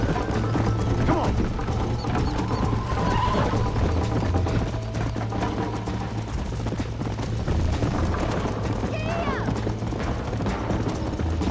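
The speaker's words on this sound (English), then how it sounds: "I hear a horse catching up." Rapid hoofbeats of a galloping horse in Red Dead Redemption with a neigh or two over busy, continuous background noise.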